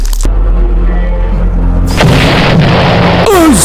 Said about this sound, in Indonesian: tiba-tiba meledak seperti lodong